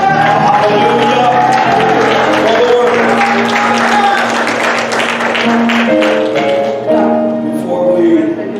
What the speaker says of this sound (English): Give the word a shout, a praise, a thanksgiving, a clap.